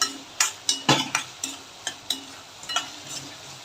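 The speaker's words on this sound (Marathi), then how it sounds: "कांदा टॅमॅटो टाकून परतवून घेणार आहे" Onion and tomato sautéing in a pan, stirred with a utensil that scrapes and taps in a quick irregular series of about a dozen close strokes over a soft sizzle.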